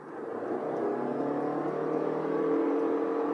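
Engine of a Toyota Crown revving in sport drive mode, a steady, rising drone that builds and holds, heard from inside the car with no talking.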